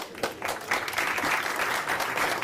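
Conference audience at FOSDEM gives a big round of applause before a talk, with dense clapping from a full room, a few sharper claps at the start and then a steady sustained roar.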